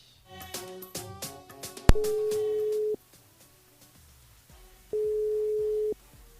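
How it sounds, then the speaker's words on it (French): A telephone line tone plays as a call is placed to a port switchboard during a live radio show: two long steady beeps, each about a second, separated by a pause, after some music and clicks. "Il appelle Keran sur le standard du côté du port."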